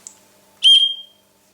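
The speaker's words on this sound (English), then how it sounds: "on the other side we have a whistle." A single sharp, shrill blast from the small whistle built into a Tool Logic SL-3 survival knife, close and loud, preceded by a faint tap.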